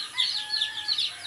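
Caged chickens clucking softly in a brief, faint burst of repeated bird calls with no talking.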